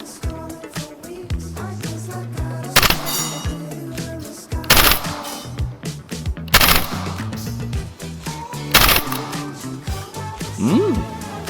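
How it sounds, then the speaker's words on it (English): A VFC FNC gas blowback airsoft rifle fires in burst mode outdoors, with four sharp rapid bursts spaced a couple of seconds apart over a steady background. "Let's try burst fire."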